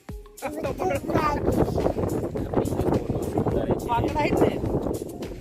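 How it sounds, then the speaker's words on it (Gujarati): Strong wind buffets the microphone in steady rumbling gusts at a hill station viewpoint in Saputara, loud and continuous, while people talk over it. "અંદર અવાજ આવતો હશે પવન"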